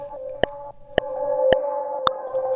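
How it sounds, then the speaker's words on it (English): Reverse reverb effect from the Aura reverb plugin on a sustained tone, with four sharp, evenly spaced percussive hits over a steady drone that swells in the reversed tail. "So it goes in, but it's reversing the reverb."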